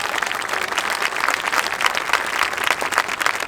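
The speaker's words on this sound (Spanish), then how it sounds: "Un aplauso para todos ellos." An audience at a talk in Resistencia, Argentina claps in a dense, continuous burst of applause, loud and close throughout.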